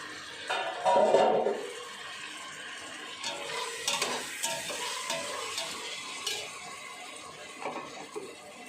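Tomatoes, a quarter kilo added for chicken biryani, stirred in a pan with a soft sizzle, a loud scrape and clatter near the start, then scattered utensil taps against a steady frying hiss, with no talk.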